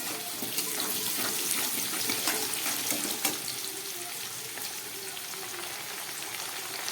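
Potatoes seasoned with salt fry steadily in a pan, a continuous close hiss and crackle with no talking over it.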